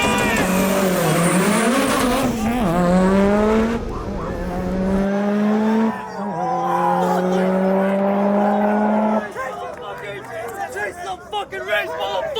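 Race cars roar through a street race, engine notes climbing in rising sweeps as they accelerate, loud and close, with a tire squeal and crowd chatter underneath.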